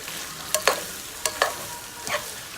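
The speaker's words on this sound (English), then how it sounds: "Give that a good really good mix. Toss it up, mix it all in." Linguine tossed and mixed in a pan with Parmesan and lemon juice, giving a handful of brief scraping, clattering strokes in irregular bursts over a soft background, with no talking.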